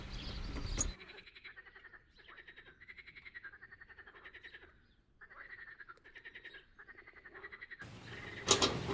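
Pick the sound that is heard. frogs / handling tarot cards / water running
frogs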